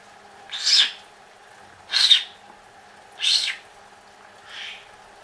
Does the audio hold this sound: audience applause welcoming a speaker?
no